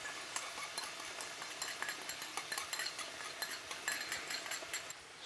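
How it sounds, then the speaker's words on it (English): Beef with green pepper and black bean garlic sauce comes up to a boil in a hot pan, a steady close bubbling sizzle with light utensil scraping and clinks throughout. "So we're just going to get this up to boiling"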